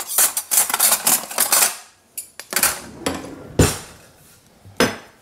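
Spoons tossing freshly strained fettuccine in hot Alfredo sauce, busy clinks and scrapes against the dish at first, then sparser sharp metallic knocks spaced out, close and loud with no talking.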